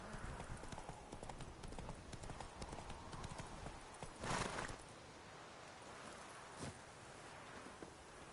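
Geralt's horse Roach from The Witcher video game walks with steady, even clip-clopping hooves over a soft outdoor ambience, the hoofbeats close and continuous, with a brief louder rustle partway through.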